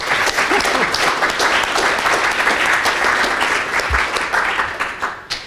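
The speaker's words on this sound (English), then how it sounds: "So let's give him a round of applause" Applause from a conference audience at Ancient City Ruby 2015, a Ruby programming conference, dense and steady throughout and thinning slightly at the end.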